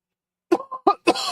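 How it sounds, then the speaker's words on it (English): A person coughs three or four times in quick succession, close and clear, with short pauses between each harsh burst. "My voice is like going out and I'm coughing."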